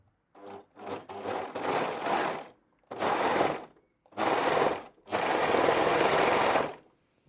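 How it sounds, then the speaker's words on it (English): An overlock sewing machine finishes raw fabric edges for mini shorts, running in four loud, fast, buzzing bursts separated by short pauses, the last one the longest. "I always like to finish my raw edges with the overlock."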